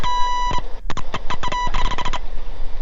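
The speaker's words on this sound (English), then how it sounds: "That little beep beep beep was the stall horn." Stall horn in a Bonanza light airplane during landing, sounding as a string of short, rapid electronic beeps in quick bursts over steady cockpit engine and wind noise, loud and close.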